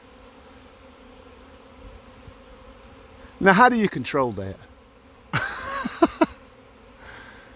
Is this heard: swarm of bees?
yes